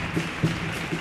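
Theatre audience at the Gran Teatro Falla in Cádiz applauding a carnival comparsa after its medley, a steady wash of clapping with a few louder swells, no voices.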